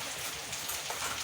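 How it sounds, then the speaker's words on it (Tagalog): Heavy rain pours outside a house in the Philippines during a stretch of bad weather, a dense, steady hiss with no break and no voices, close and fairly loud. "sobrang lakas ang ulan"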